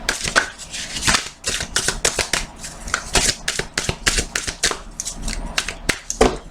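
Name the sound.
shuffling and cutting tarot cards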